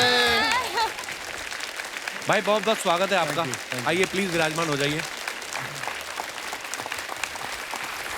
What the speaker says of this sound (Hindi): जोरदार तालियां आ जाए अजय अतुल जी के लिए।